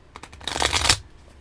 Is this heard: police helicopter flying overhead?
no